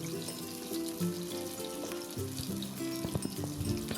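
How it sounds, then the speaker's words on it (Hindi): Onions frying lightly in a large kadhai for Kashmiri-style chaulai saag, a steady soft sizzle with low clattering and stirring scrapes, fairly close and continuous with no talking. "प्याज को हम हल्का सा फ्राई करेंगे।"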